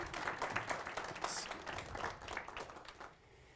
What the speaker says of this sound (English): Just round of applause.